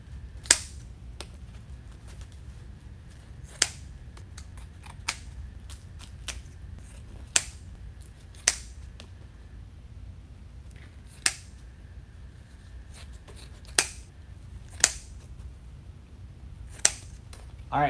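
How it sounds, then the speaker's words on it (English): Scissors trim ribbon tails on a grapevine wreath, giving a series of sharp, quiet snips spread unevenly over the stretch, some in quick pairs, against a soft low room hum. "let's trim our ribbon tails"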